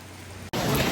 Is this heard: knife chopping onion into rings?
no